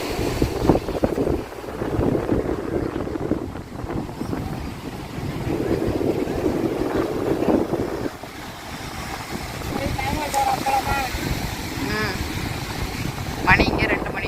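Strong sea wind gusts across the microphone at Cuddalore beach, a loud roaring buffet with crashing surf beneath, swelling and easing over several seconds, with a voice briefly audible under the rush.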